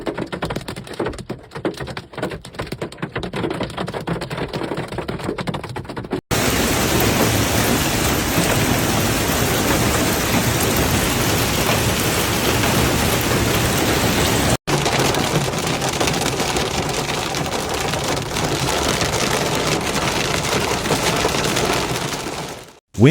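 A hailstorm with rain and thunder pounds Denver, Colorado, damaging roofs and cars. A loud, dense, steady roar of hitting ice and rain fills the whole stretch, rising sharply after a quieter start, with no voices.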